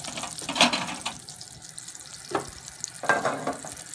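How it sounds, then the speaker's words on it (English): Garlic and onions stir-fried in a pan for an eggplant parmigiana: a steady low sizzle with a few sharp scraping stirs of the pan, close by, and no talking. "the garlic is getting golden, the onions are getting sweet"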